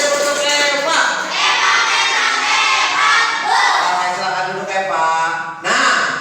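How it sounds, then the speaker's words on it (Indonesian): Schoolchildren in a sixth-grade classroom clap and cheer for a classmate, a loud, dense burst of young voices shouting together for about six seconds with a teacher's voice briefly mixed in. "Tepuk tangan dong buat Eva."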